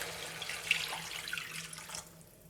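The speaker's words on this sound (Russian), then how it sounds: "Далее наливаю 900 мл воды." Water streams steadily from a tap into a pan of cooking chicken hearts, a close, continuous pour that stops abruptly near the end.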